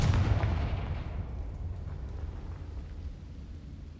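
A Confringo spell explosion in Hogwarts Legacy, a single loud booming blast at the start that decays into a long rumbling tail.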